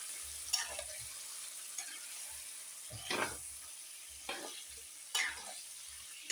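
Food frying in a pan is stirred in short, separate scrapes at irregular intervals over a quiet, faint sizzle, with no talking.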